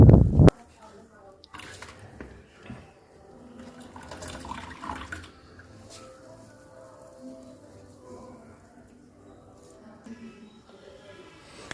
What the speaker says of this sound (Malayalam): ഇത് നന്നായിട്ട് കഴുകി ഇതിൻ്റെ സ്റ്റാർച്ചൊക്കെ കളയണം